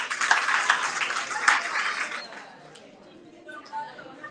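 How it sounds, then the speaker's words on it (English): Applause at a book launch, a burst of clapping from a gathered audience that fades after about two seconds, leaving quieter room sounds and a few scattered claps. "can you please give a round of applause?"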